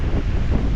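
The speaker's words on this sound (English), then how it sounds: "So, as you can see, it's quite windy" Strong, steady wind buffets the microphone in a continuous low roar with gusty surges, heard outdoors near a highway as a storm rolls in.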